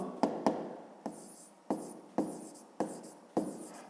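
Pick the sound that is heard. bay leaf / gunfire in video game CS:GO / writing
writing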